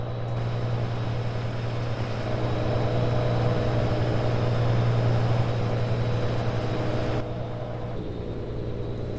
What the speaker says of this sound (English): It's got a really good sounding engine.